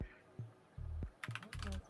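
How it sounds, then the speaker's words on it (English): Several distinct keystroke bursts on a computer keyboard, clustered in short groups with brief pauses between them, close and fairly quiet. "I'm typing everything out."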